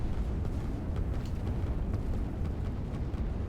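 A rocket explosion striking a silo in the strategy video game Line War, heard as a continuous deep rumbling roar with no sharp onset, sustained and fairly loud throughout.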